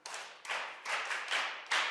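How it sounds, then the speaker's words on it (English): Hands clap in a morning television studio, sounding as five sharp, rhythmic bursts spaced about evenly, fairly close and clear, with no one talking. "Clap your hands for him."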